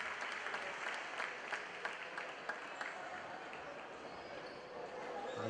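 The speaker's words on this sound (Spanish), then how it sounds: "Ante el aplauso del público" Spectators applaud during a women's futsal cup match, Ence Marín against MRB Móstoles, a fairly faint, continuous spread of clapping from the stands heard at a distance, with a commentator's voice present beneath it.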